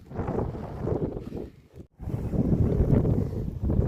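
Strong wind buffets the microphone in a village setting, producing loud, low rumbling gusts that drop out briefly midway before surging back steady and heavy.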